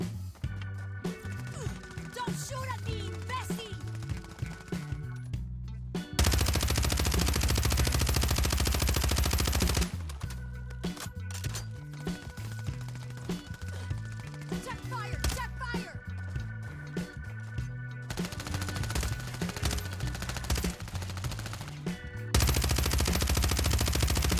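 Bursts of automatic gunfire in Call of Duty: Warzone, loud rapid fire in several long stretches with brief pauses between them, over game music and ambience.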